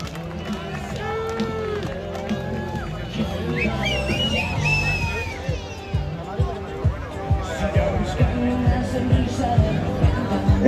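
Onlookers at a 5-kilo empanadilla eating challenge cheer over busy chatter and shouting, then settle into loud, rhythmic clapping that builds toward the end.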